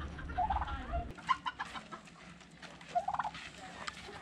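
A turkey gobbles at an abandoned ghost town in Jerome, Arizona: a few loud, close, rattling bursts spread over several seconds, with quieter clucking between them and no talking.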